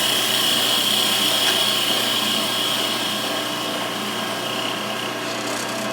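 Wood lathe spinning while turning a wine bottle stopper, a loud steady high-pitched whir with a constant tone and faint scraping texture, close and unbroken.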